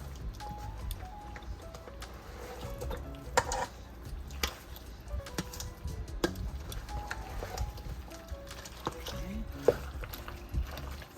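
A spoon stirs a hash brown potato casserole mixture in a bowl, scraping the sides: soft, irregular squishing and light scraping taps continue steadily at close range.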